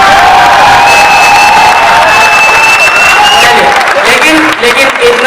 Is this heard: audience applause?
yes